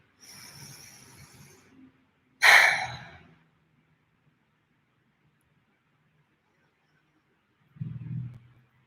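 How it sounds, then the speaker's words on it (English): Slow, deep breaths through the nose during a guided meditation: a soft inhale, a stronger hissing breath, then a faint low exhale after a long quiet pause, close and unhurried. "we're taking long, deep, slow breaths in through our nose"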